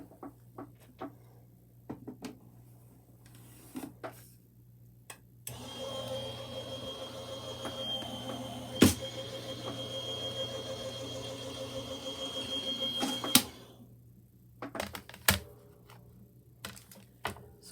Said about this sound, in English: then you run it through your die cutting machine